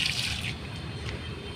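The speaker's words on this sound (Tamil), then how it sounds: "எல்லா செடிக்கும் அப்படி தண்ணி ஊற்றிட்டு" Water poured onto plants growing in soil-filled cement bags in a terrace garden, a steady, fairly close splashing and trickling that softens slightly after the first half second.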